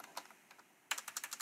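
Quick keystrokes on a computer keyboard, a few scattered taps followed by a faster run of crisp clicks, close and alone in a quiet room.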